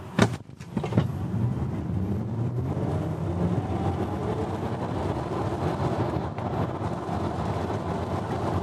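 Cupra car accelerating hard from 0 to 100 km/h in Cupra drive mode, a steady sustained drive roar building after a brief opening transient, with no talk over it.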